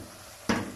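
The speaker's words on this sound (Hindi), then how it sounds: "2 से 3 मिनट तक अच्छी तरह चम्मच हिला के मसाले को भून लें।" Masala with softened tomato pieces is stirred with a spoon as it fries for bhindi fry. After a quiet start, one sudden close burst of sizzling and scraping rises partway through and then eases.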